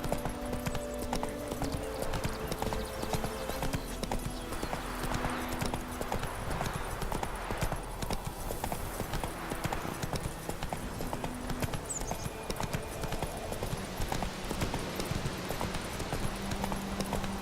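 Roach, the horse in The Witcher 3: Wild Hunt, gallops. Its hooves beat a continuous, rhythmic clip-clop that stays close and steady throughout, layered over busy in-game ambience.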